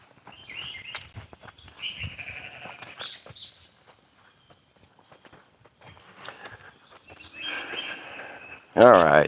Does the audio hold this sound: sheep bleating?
yes